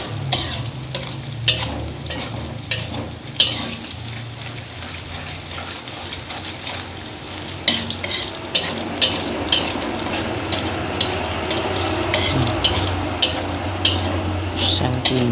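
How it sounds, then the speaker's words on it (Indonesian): Spices are stir-fried in a pan, sizzling steadily and close, with repeated scraping knocks of the spatula against the pan throughout; nobody speaks. "Bumbunya di gongso"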